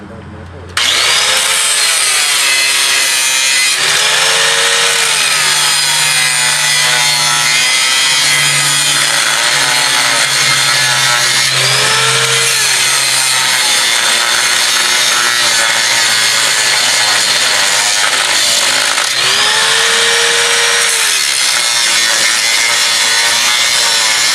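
A saw cuts through metal while a K-frame is replaced on a GM car, giving a loud, continuous harsh grinding buzz that persists for the whole stretch, close by with no talk.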